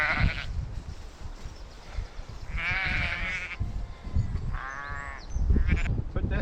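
Several sheep bleat at moderate distance on grassland, in wavering harmonic calls at about 0 s, 2.5–3.5 s and 4.5–5 s, over low outdoor rumble and handling noise.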